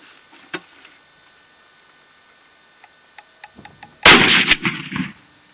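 A single close, very loud rifle shot from a .458 Winchester Magnum bursts out after a quiet stretch of faint clicks and hum, followed by a short rumbling tail.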